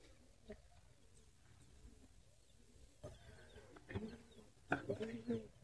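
Sonali chickens on a farm give soft, scattered clucks that grow busier toward the end, faint and fairly close against quiet background hum.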